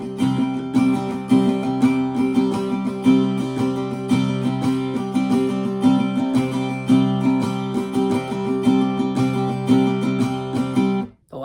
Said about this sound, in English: with the first 4 just using strumming pattern 1 to play the C prime chord